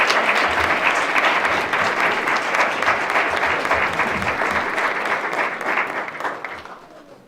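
Sustained applause fills a Martin Luther King Day celebration at Windsor Town Hall, a dense, steady wash of many hands clapping that holds for several seconds before tapering off near the end.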